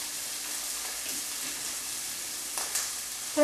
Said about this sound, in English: And we're flipping our andouille sausage over to the other side.